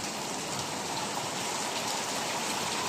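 Heavy rain pours down at night in a steady, dense, close-up roar of drops hitting surfaces, with no voices and no breaks.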